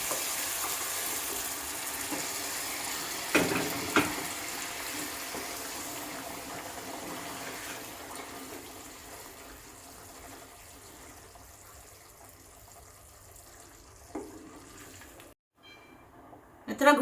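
Boiled chickpea water pours steadily into a pan of cooking chickpeas, a soft continuous gush at low volume with a few clinks and a brief pause near the end.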